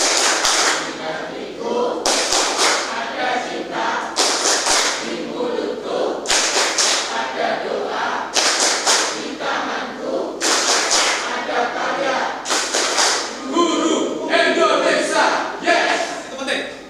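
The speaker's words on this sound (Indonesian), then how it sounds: "Baik, tepuk guru Indonesia" Indonesian teachers perform the Tepuk Guru Indonesia clapping chant at a talk show, loud clap bursts falling in a repeated rhythmic pattern with chanted voices between them, close and busy throughout.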